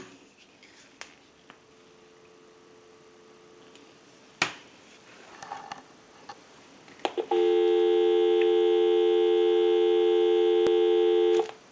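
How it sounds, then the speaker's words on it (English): A repaired AT&T single-slot payphone gives a steady dial tone on the line, loud and continuous for the last several seconds, after scattered clicks and handling noises. "So we'll go ahead and give you some dial tone."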